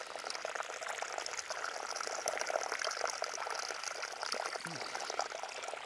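Water trickles and splashes steadily as it flows out of a mulch-covered soil sample during a soil erosion demonstration, a continuous close, hissing wash with faint background voices.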